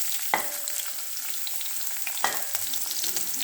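Onion dropped into hot oil already crackling with fennel seeds and cumin, two sharp sizzling bursts as pieces hit the pan, then a steady quiet frying hiss with stirring, no voices.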